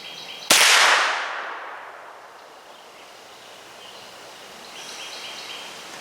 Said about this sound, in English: We're going to shoot one more and then go check it out.